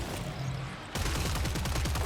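Rapid AK and SCAR rifle fire in the video game Killing Floor 3, a dense burst of fast, regularly repeating shots starting about a second in after a quieter rumble, loud and continuous to the end.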